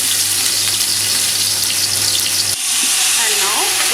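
Onions frying in desi ghee in a pan, a loud, steady sizzle with crackling throughout and a brief change partway through as stirring shifts the hiss.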